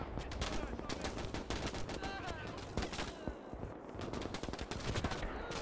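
Dense rapid gunfire from MG42 machine guns in a World War II battle in Gates of Hell, bursts and single shots crackling continuously with distant booms, voices faintly mixed in.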